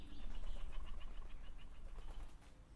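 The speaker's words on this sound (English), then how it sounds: "Hear those pigeons fly." Pigeons flapping their wings in flight, a close, busy flutter of wingbeats that fades slightly, with no voices.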